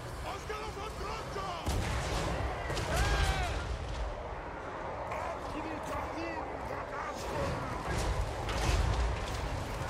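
Cannon fire in the video game Total War: Warhammer 3 booms in repeated heavy blasts over a clamor of battle noise, while someone talks excitedly throughout.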